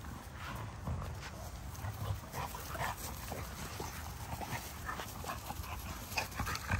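Dogs pant close by in quick, rhythmic breaths, fairly faint, with light shuffling and no one talking.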